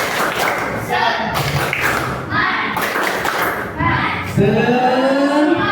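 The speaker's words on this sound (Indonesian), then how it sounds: "terima kasih tepuk tangan buat kita semuanya" Applause from a classroom of students fills the room, a steady patter of many hands clapping with thuds and taps mixed in, while children's voices chatter underneath.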